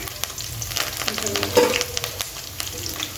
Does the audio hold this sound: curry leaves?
yes